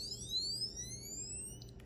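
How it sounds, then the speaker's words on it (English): Laser tag gun giving a steady electronic tone with a rising pitch sweep, then a few short beeps near the end, heard alone against a low background hum. "there's like a dull beep, and that means I'm out of ammo and I can't fire anymore"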